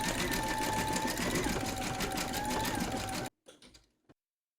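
An embroidery sewing machine stitches the white of a lamb's eyes for an Easter treat bag, a steady fast mechanical whir running loud and close for about three seconds before stopping, followed by a few faint clicks.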